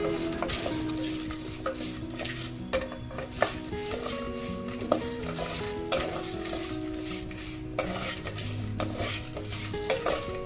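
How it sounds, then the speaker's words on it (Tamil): Shallots, garlic, ginger, curry leaves, dried red chillies and whole spices sautéing in oil in a pan, with a steady close sizzle under frequent stirring scrapes and light clinks of a utensil against the pan. "ஒரு பேனில் வந்து எண்ணெய் சேர்த்துட்டு எண்ணெய் கூடவே வந்து சின்ன வெங்காயம் பூண்டு இஞ்சி கருவேப்பிலை வரமிளகா"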